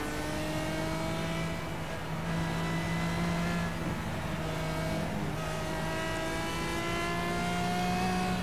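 The engine of a GT4 race car in the Project Cars racing game drones steadily at Bathurst, its pitch climbing and dipping through gear changes, with a continuous close and moderately loud roar throughout.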